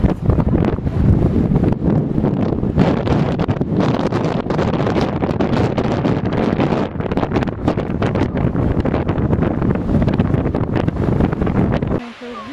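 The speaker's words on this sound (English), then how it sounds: "It is windy. Yes, it is windy." Strong wind in the Wicklow Mountains, Ireland, buffets the microphone in a loud, continuous roar with gusty rumbling, cutting off abruptly near the end.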